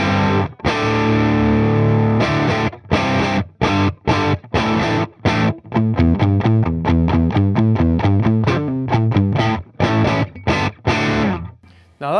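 Loud, distorted electric guitar played through a Celestion Redback 150W speaker, sustained chords giving way to rapid chugging palm-muted riffs with short gaps, heard alone with no talk.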